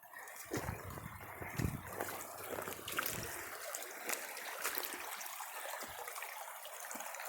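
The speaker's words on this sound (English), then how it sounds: "I could walk this whole creek, I think." Shallow creek water in eastern Tennessee trickles and burbles steadily nearby, a soft continuous wash with a few splashy bursts near the start.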